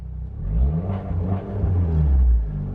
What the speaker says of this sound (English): So while we're in sport mode, let's give it a couple of revs, and with the top down, let's hear what it sounds like.